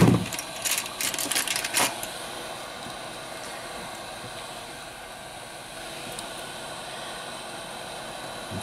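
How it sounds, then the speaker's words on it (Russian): A hot air gun gives a steady blowing hiss for several seconds after a few brief clicks and rattles at the start, moderately loud and unbroken, during an iPhone 11 Pro Max housing replacement. "Фен."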